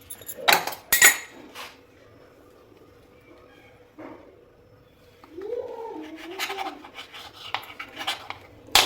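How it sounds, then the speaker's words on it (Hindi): Knife trimming the crusts off slices of white bread on a board for banana French toast: a few sharp scraping cuts and clinks, then quieter sawing and rubbing strokes, with a voice speaking softly in between. "ये हमारी ब्रेड है तो हम इसके साइड वाले काट लेंगे"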